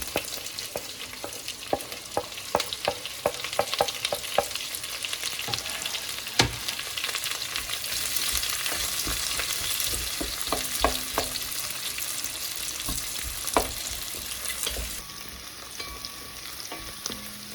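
Thinly sliced onions and green chillies fry in a pan over whole biryani spices, a steady close sizzle broken by repeated spoon clinks and stirring taps throughout.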